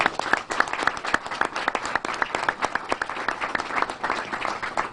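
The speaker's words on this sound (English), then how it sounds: "Let's give him a big round of applause." A crowd applauds Chuck Schumer at a Rochester jobs announcement for the Hickey Freeman expansion, a sustained, loud round of dense clapping with sharp individual claps throughout.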